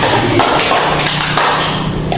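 A classroom of Indonesian students claps in unison in a counted pattern. A few crisp, loud group claps land at spaced intervals over a dense, noisy room background.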